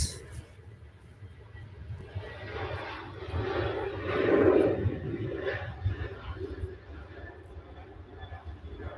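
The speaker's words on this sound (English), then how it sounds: "Ryanair flight will pass and give a nod." A Ryanair airliner passes at Manchester Airport. Its jet roar swells to a broad peak in the middle and then slowly fades, heard from a distance outdoors.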